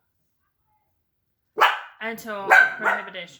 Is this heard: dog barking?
yes